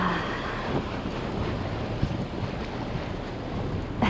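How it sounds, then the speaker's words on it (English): Wind buffets the stern of a cruising boat on the Hudson River, a steady roaring rush with faint water wash, with no voices. "Kind of windy back here."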